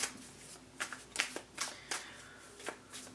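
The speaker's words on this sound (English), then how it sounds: "Now I'm going to go into my shuffling phase here." A deck of tarot cards is shuffled by hand in quiet, soft riffling bursts, about eight quick brushes over three seconds, close and alone.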